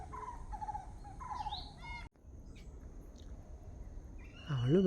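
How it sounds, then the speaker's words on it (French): Birds calling and chirping in the early morning near ancient rock formations at Anuradhapura, Sri Lanka, several short repeated calls and trills at moderate distance, quiet overall with a brief gap midway and a louder call near the end. "nous avons d'autres chants d'oiseaux."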